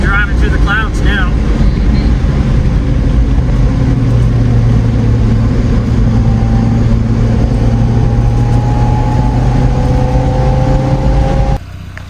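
A car drives up a cloud-covered mountain road with a loud, steady engine drone and constant road and wind rumble throughout. Brief voices are faintly heard near the start, and the noise drops abruptly at the very end.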